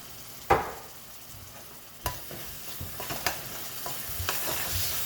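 Sliced onions fry in a pan with garlic-ginger paste for a prawn curry as a spoon stirs them, giving a soft, steady sizzle broken by a few sharp scrapes and clinks, faint and close, with no talking.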